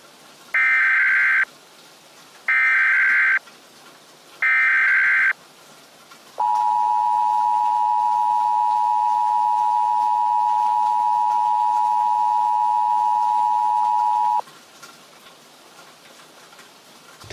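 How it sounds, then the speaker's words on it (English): Emergency Alert System broadcast for a tornado warning in the Tulsa area, with three short loud data bursts followed by a long steady two-tone alert lasting about eight seconds, with no voices. "The National Weather Service has requested an EAS transmission."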